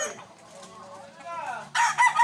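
A farmyard rooster crows loudly near the end, its call rising out of quieter background talk from people nearby.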